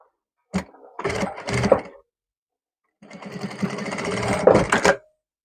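A sewing machine stitching a kurta runs in two bursts: a short stop-start whir, then a longer steady rattling run, with silence between them.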